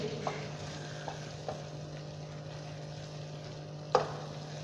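Multani sohan halwa mixture being stir-roasted in a pan: a steady low hum with a few soft scraping taps of the spoon, and one sharper scrape near the end, no talking.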